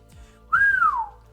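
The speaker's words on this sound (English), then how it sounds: "I gotta make sure I do the whistle right" One clear human whistle, a short rising-then-falling note lasting about half a second, sounds close and alone after a brief quiet lead-in.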